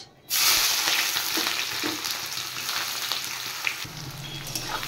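Dried red chilies, bay leaves and whole cumin hit hot oil, bursting into a loud, steady sizzle right after a brief silent start and hissing continuously up close.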